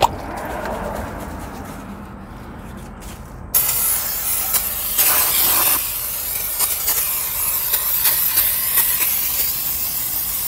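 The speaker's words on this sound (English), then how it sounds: "So I got me some brake cleaner." Brake cleaner sprays onto a rusty car brake rotor covered in brake dust, in a steady loud hiss broken by a few short bursts and pauses, close up with no talking.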